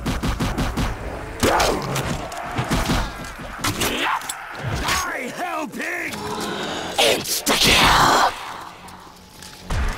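Gunfire in Call of Duty: World at War Nazi Zombies co-op mode, repeated rapid shots and bursts in close succession, with zombie growls and players talking over the action.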